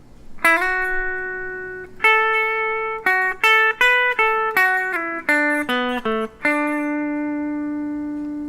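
A short country-style pentatonic guitar lead phrase: a held bent note, then a quick run of plucked single notes, settling on a long sustained note that fades.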